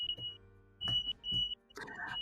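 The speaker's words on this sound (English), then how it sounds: "Our fire alarm is going off." A fire alarm goes off in a home during an online charity tabletop game session, sounding as repeated high-pitched electronic beeps, moderately faint, with rustling and room noise between pulses.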